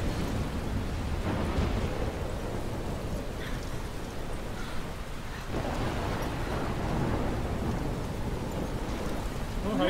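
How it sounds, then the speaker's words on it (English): Thunderstorm with steady heavy rain in the video game Life Is Strange, a dense continuous roar of downpour with low rumbling thunder swelling throughout, loud and close, no speech. "I'm trapped in a storm?"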